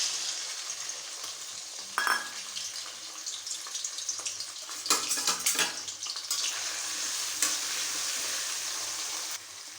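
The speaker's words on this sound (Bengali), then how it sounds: "এবার আমি চিংড়ি মাছগুলো ভেজে নেব" Prawns fry in hot oil, producing a steady close sizzle with bursts of louder spattering and occasional stirring clatter throughout.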